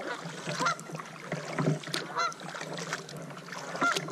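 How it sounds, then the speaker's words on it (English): Ducks on the Clarion River honk at a kayaker, giving three short, fairly faint calls spaced a second or two apart over soft water and paddling noise. "Man, these ducks are mad at me."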